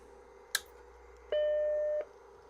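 A Macintosh 128K computer starts up: a sharp click, then a single steady startup bong held for under a second before it fades, loud and close, with no voices.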